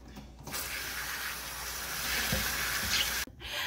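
Fabric dyed with RIT dye is rinsed under a running tap, giving a steady, close hiss of water that starts abruptly, holds evenly for about three seconds with faint splashing, then cuts off sharply, with no voices.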